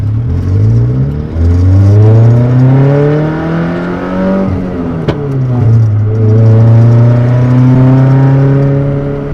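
A 1998 Toyota Tercel engine runs loud and close with no muffler and a loosely attached, rattly exhaust, revving up and down twice with rising and falling pitch and a metallic clatter over the raw exhaust drone.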